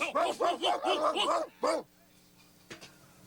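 A dog barks a rapid run of about five close, loud barks, then one more after a short gap, followed by quiet with a faint thump.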